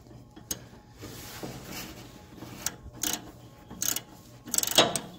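Wrench working loose a nut on a Ford 8N tractor while wiring an alternator: a few sharp metallic ratcheting clicks and clanks spaced across the moment, close by and fairly quiet, with no talk.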